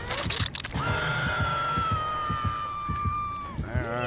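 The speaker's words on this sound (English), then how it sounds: "we're screaming like a bitch again" A Dead by Daylight survivor character lets out a long, sustained, wavering scream over a steady run of soft rhythmic thuds, fading before a brief final cry.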